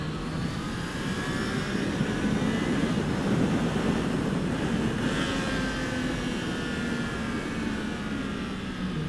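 A Triumph Trident motorcycle engine drones steadily under strong wind rush while riding on twisty roads, with the downshift into third blended into the continuous engine and air noise at moderate distance.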